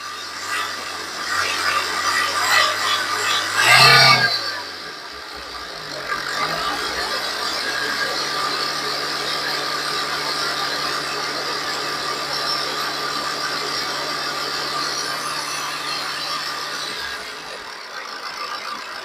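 A Skoda Rapid diesel engine idles with a steady, rattly hum, heard up close. A louder burst of revving comes early on before the engine settles back into an even idle that carries on to the end.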